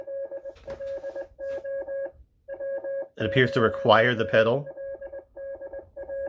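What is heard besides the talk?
HasLab Ghostbusters Ghost Trap toy beeping Morse code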